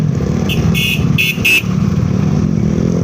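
Motorcycle riding through crowded, slow-moving traffic in Subang, Indonesia: a loud, steady engine and road roar close by, with a few short car horn toots in the first half.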